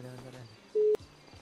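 A single short, steady electronic tone sounds once, like a phone dialing or keypad beep, clear and close, with faint talk just before it.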